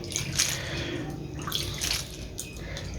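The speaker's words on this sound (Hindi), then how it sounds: "अब इसके अंदर हमने करना है पानी ऐड थोड़ा थोड़ा करके।" Water trickles and splashes little by little into a bowl of gram flour batter for fried naan, a steady close wet pouring with soft drips throughout.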